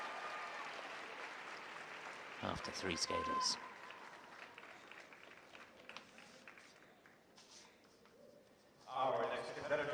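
Crowd applause at a men's short program figure skating competition, Grand Prix Norwood 2022, in a rink arena. The clapping swells and fades under a commentator's continuous talk, then surges again near the end.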